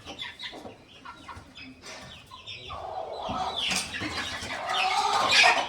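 Several hens cluck close by, their calls growing louder and more insistent toward the end, with no voices.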